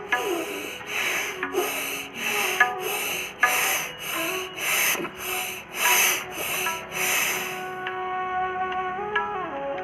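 Loud, forceful pranayama yoga breathing with rapid rhythmic inhales and exhales, about a dozen strong rasping bursts in steady succession, close up, no talking.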